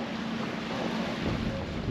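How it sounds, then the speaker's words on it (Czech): A motorboat on a lake, apparently towing a water-skier or surfer, runs as a steady broadband engine and water rumble under wind noise on the microphone, with no talking. "tady normálně jezdí pán na motorové lodi"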